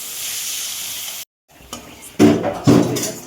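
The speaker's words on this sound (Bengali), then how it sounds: "এবার পেঁয়াজটা ভেজে নিয়ে বেরেস্তা করে দেব।" Sliced onions sizzling in hot oil in a pan, browned for biryani, with a hiss that cuts out briefly and returns with louder bursts of stirring and frying.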